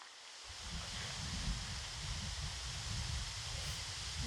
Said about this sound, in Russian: В парке ветрено, поэтому, скорее всего, будет какой-то шум на видео